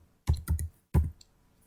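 Three or four quick, crisp keystrokes on a computer keyboard while entering a MATLAB command, close and isolated, with a tiny faint click afterward and no speech.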